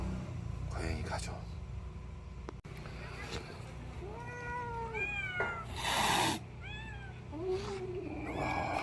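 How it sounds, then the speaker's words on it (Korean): Several cats in front of a cat cafe coffee shop meow in a cluster of rising and falling calls, close and clear, with a person talking and background rumble in between. "이 커피숍 앞에 있는 고양이들인데요"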